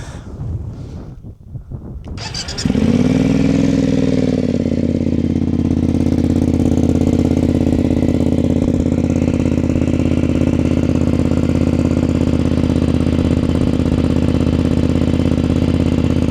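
A BMW F900GS motorcycle with an aftermarket exhaust tube idles steadily with a deep, throaty exhaust rumble that starts after a brief windy handling noise and holds evenly to the end, close and loud.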